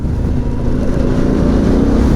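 A Harley-Davidson Pan America motorcycle with a Screaming Eagle exhaust rumbles loudly and steadily at close range, a deep continuous engine drone.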